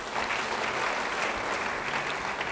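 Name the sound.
applause for a church speaker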